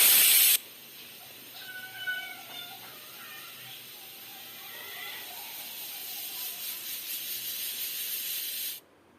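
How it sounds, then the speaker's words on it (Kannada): A pressure cooker whistles while cooking soya chunk pulao, giving a sustained, loud steam hiss that holds for about eight seconds before cutting off abruptly. "ನೋಡಿ ಎರಡು ವಿಝಿಲ್ ಆಯಿತು"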